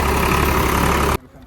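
An Eicher tractor engine idles at a demo event, a loud close rumbling chug that cuts off abruptly after about a second, followed by near silence.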